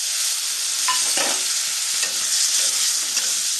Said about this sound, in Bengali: আলুটা আমি খুব ভালো করে একটু ভাজবো একটু লাল লাল করে আলুটা ভেজে নেব